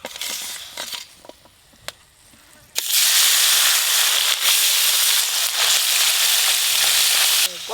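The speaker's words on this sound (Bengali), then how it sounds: "এবার ছোট মাছগুলো ভেজে নেব।" Small fish frying in hot oil give a sudden loud, steady sizzle that bursts in after a few quiet clinks and soft handling noises, then keeps crackling close by with faint talk underneath.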